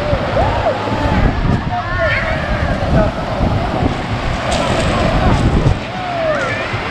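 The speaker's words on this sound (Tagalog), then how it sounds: "Malakas yung alon ngayon guys" Steady roar of wind and surf, with strong waves crashing and rumbling continuously close by on an open beach at Tando Beach Resort, Infanta, Quezon, gusts buffeting the microphone.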